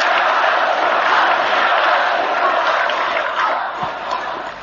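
A huge crowd in Prague's Wenceslas Square roars and cheers, a dense, loud wash of many voices that holds steady and then eases slightly toward the end.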